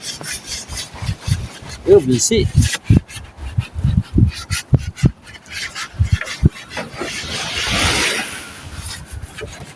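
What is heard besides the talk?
sanding a wooden boat by hand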